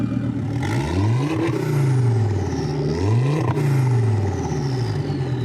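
A custom 1965 Volkswagen Bug engine revs up sharply twice, each rise climbing to a whirring peak before easing back to a steady idle, loud and close.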